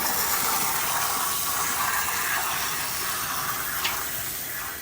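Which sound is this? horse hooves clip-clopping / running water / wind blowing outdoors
running water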